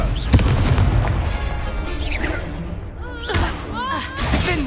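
A Confringo fire spell goes off in Hogwarts Legacy on PS5, a sharp booming blast followed by crackling, whooshing magical effects, with a player's voice shouting over the game action throughout.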